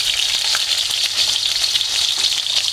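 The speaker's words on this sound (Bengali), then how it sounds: "আলুগুলো একদম ফ্রাই করে নিচ্ছি ভালো করে, একদম ভাজা ভাজা হয়ে আসছে।" Potatoes fry in hot oil in a pan with onion and green chili, giving a loud, continuous close-up sizzle with light crackling and no talking.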